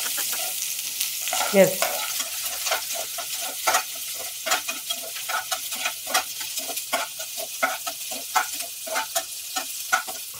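Small shallots frying in hot oil for a Madurai-style fish curry: a constant bright sizzle with frequent sharp scrapes and taps of a stirring spoon, including one louder rustling stir early on.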